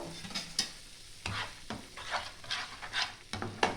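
A paste of ground mustard, poppy seed and green chilli is stir-fried in a pan. It makes a soft, close sizzle broken by repeated scraping and stirring bursts at an uneven rhythm.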